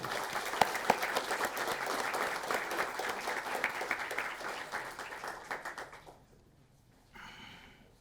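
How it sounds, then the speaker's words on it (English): Audience at an evening county school board meeting applauding cadets, a sustained round of clapping that fades out near the end, followed by a quieter stretch of faint room noise. "Let's give them a round of applause."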